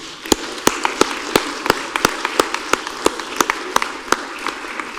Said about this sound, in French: je vous demande d'applaudir nos 3 intervenants